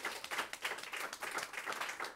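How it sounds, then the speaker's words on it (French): Studio audience applause and cheering on the set of an Occitan talk show, quiet and somewhat distant, with clapping bursts that swell and ebb in an irregular rhythm. "Une acclamation."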